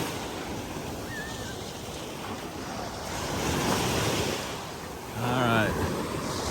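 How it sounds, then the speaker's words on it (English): Rough ocean surf rolls and breaks steadily on a beach by a small fishing community, with a heavier wave crashing in near the end under constant wind noise. "This wave's coming in."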